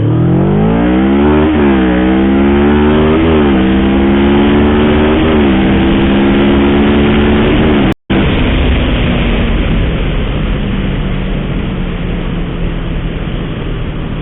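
A Kawasaki ER-6n 650cc motorcycle engine revving hard and accelerating through several gear shifts, its pitch climbing and dropping, loud and close, with a brief dropout midway.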